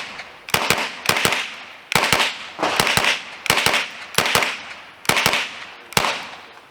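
Rapid pairs and bursts of sharp .22LR hollow-point gunshots from a KRISS Vector rifle at an outdoor range, loud and close, in about seven quick clusters with brief gaps between them.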